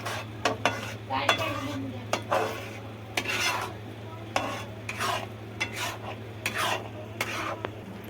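Spoon stirring and scraping white pasta sauce with oregano in a pan, repeated scraping strokes in an irregular rhythm over a steady low hum, close and fairly quiet with no talking.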